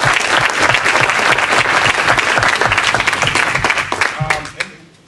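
Audience at a panel discussion on the Take Back the Land movement claps in a loud, dense round of applause that holds steady, then thins and fades out over the last second.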